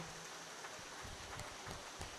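Rain falls steadily as a soft, even hiss of drops, faint and distant, with no other sound above it.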